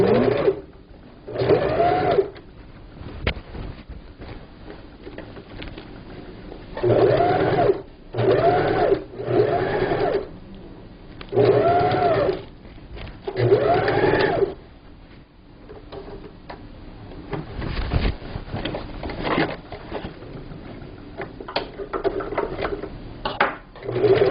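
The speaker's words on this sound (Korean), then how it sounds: "이렇게 잡고 두 줄 박음질을 해보겠습니다" A sewing machine runs in repeated bursts of rapid stitching as two parallel lines are sewn along a fabric seam for a table cover, pausing between runs with quiet handling sounds.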